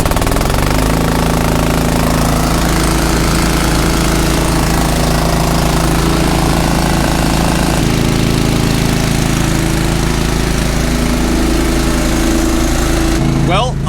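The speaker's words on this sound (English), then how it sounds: "I gotta pull start this thing" A Harbor Freight pull-start engine running on a farm, a steady loud mechanical drone with a constant low rumble throughout, changing pitch slightly partway through, with voices faintly underneath.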